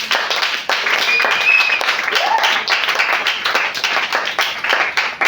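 Church congregation at a sermon applauding for several seconds, with dense, close clapping from many hands and voices calling out underneath.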